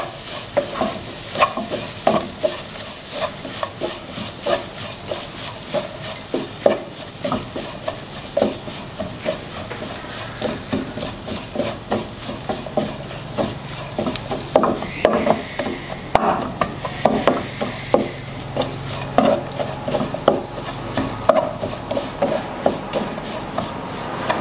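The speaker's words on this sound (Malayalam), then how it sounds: "ഒന്ന് ഇളക്കി കൊടുക്കാം." Spiced chicken thoran with chilli powder is stirred in a frying pan, a spatula scraping and knocking the pan in a steady irregular rhythm over a continuous close sizzle, with no one talking.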